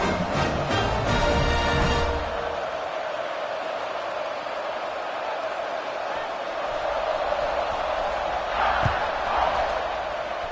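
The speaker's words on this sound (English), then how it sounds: "this crowd is buzzing after that last score" Stadium crowd in the video game College Football 26 keeps up a broad, steady roar across the whole stretch, with a commentator talking over it and a brief thud near the end.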